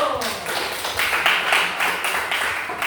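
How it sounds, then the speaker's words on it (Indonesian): Students in a classroom give a round of applause for a classmate, dense rhythmic hand clapping that runs steadily and evenly for a few seconds. "Berikan aplaus dulu untuk Fildo."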